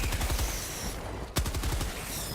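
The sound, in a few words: AT-47 anti-tank autocannon turret firing, video game Helldivers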